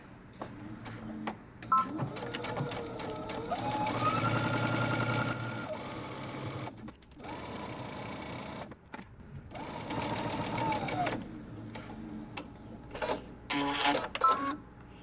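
A sewing machine runs in bursts while stitching a dress seam at a 5/8-inch allowance, pivoting at corners; loud motor whirs start and stop with short pauses between runs, no talk.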